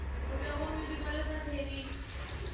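A small bird chirps near a wheat field at harvest time, giving a quick series of high, repeated tweets over low background rumble. Someone speaks and imitates the chirping.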